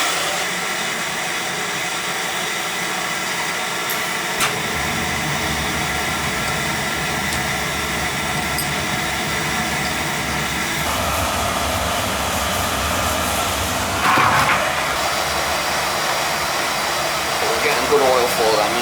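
A residential oil burner fires during its annual service, giving a loud, steady roaring whoosh that continues unbroken, with a few clanks and knocks of handling near the end.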